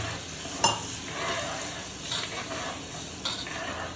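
Ground masala paste heats in a pan for crab curry with a soft sizzle, a sharp utensil knock early on and a couple of stirring scrapes, fairly quiet throughout.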